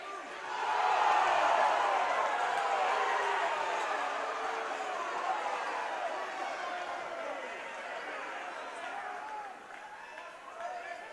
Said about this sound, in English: The crowd didn't like it too well.